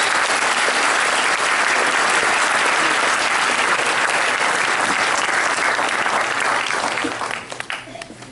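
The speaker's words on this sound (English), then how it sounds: "Let's give her a big round of applause." An audience at a Parents Day gathering claps steadily and briskly for several seconds, a dense wash of hands that thins into a few scattered claps and quiets near the end.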